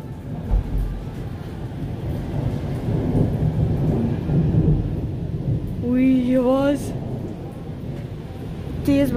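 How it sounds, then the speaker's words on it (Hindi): Heavy rain falls steadily with low rumbles of thunder near the start, and a voice speaks briefly over the downpour toward the end. "तेज बारिश हो रही है, ये देखो सब कुछ गीला हो गया"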